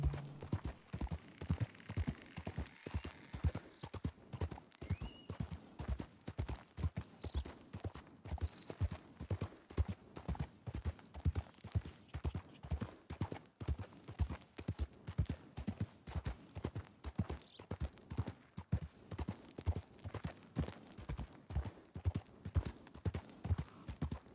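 Horse hooves clip-clop in a steady, rhythmic walking gait in the video game Red Dead Redemption 2, moderately close and continuing unbroken for the whole stretch with no speech over it.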